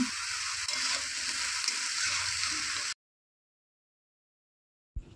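Colocasia pieces fry with spices in a pan for about three seconds, a steady dense sizzle with faint stirring scrapes, then cut to silence before a brief return of sizzling at the end.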